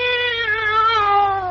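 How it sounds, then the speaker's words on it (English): A cat just let out of a bag meows loudly and close by. One drawn-out, wavering meow falls slightly in pitch over a second and a half, with no talk. "maybe my cat can hide out here for the day"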